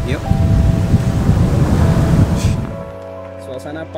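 Ocean waves at Depok Beach in Pekalongan, on Java's north coast, at sunset: a loud, dense surf roar for nearly three seconds, then it falls away to a quieter scene with a steady humming tone.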